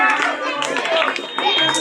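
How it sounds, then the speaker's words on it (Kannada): An audience claps loudly and continuously at a stage event, with dense applause mixed with crowd voices. "ಜೋರಾಗಿ ಚಪ್ಪಾಳೆಯೊಂದಿಗೆ ಸಹಕರಿಸಿ."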